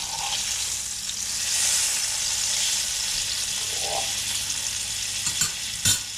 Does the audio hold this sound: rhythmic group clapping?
no